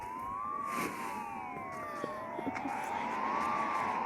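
Police car sirens wail in a video game, several overlapping sweeping tones rising and falling steadily for the whole stretch, with faint thuds and a low rumble beneath.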